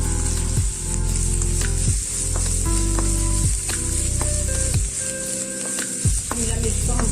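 Capsicum frying in a pan for vegetable fried rice sizzles loudly and continuously up close, with repeated stirring scrapes against the pan.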